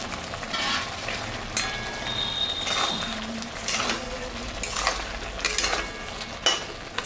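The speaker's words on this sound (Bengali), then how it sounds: "মশলাটা হয়ে গেছে, এখন আমি মাছটা দিয়ে দিব।" Pangas fish pieces go into a pan of cooked masala for a Bengali fish curry, giving a close crackling sizzle with scraping and stirring clatter in irregular bursts.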